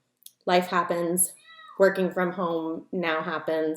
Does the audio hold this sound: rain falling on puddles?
no